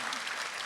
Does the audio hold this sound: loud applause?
yes